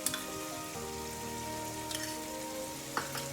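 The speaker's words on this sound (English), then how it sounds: "So now I'm going to add in this tomato paste." Tomato paste, about two teaspoons, goes into a masala frying in a pan. A steady close sizzle and crackle runs throughout, with a couple of sharper spatters and no talk.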